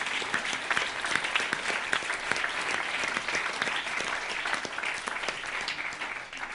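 Sustained applause from an audience fills the room, steady and dense clapping throughout at a fairly loud level, with no voices standing out.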